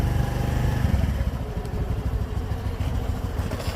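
Honda Navi motorcycle engine running with a little throttle, a steady low rumbling drone with a faint rhythmic pulse, close and fairly loud, no voices.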